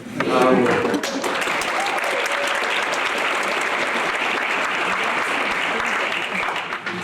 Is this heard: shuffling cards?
no